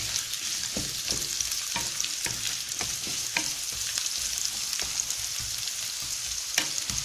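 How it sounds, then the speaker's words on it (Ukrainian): Vegetables with carrot being stirred and lightly stewed in a pan for a pumpkin ragout, a continuous hiss under a steady run of spatula scrapes and clicks, near and unvoiced. "змішуємо і трішки-трішки протомбуємо."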